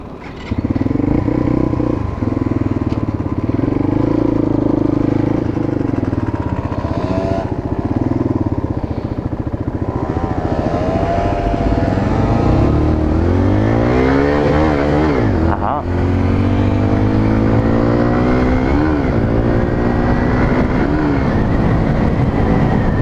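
A Bullit Hero 125 motorcycle rides along steadily, its loud engine droning and rising in pitch, then dipping and climbing again through gear shifts, with wind noise and a voice speaking over the ride.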